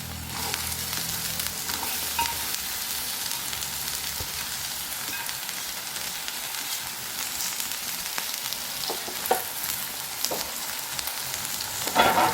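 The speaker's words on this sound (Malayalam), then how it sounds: "ഇതിൻ്റെ ഈ പശപ്പൊക്കെ മാറുന്നത് വരെ നമുക്കൊന്ന് വഴറ്റിയെടുക്കാം." Okra sautéing in oil in a non-stick pan, a steady moderate sizzle throughout broken by occasional spatula taps and scrapes, with a louder clatter near the end and no talking.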